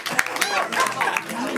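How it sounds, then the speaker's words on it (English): A game-show audience claps for the contestants, the brisk applause mixed with excited voices and cheers. "Clap for them again."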